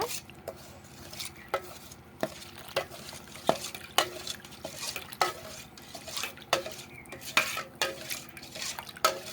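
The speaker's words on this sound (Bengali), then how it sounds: "এবার ভালো করে মিশিয়ে নেব।" Food being stirred and mixed in a pot with a spoon, a quiet bed of cooking sound broken by frequent sharp scrapes and clinks of the utensil against the pot in an irregular rhythm, close and without talk.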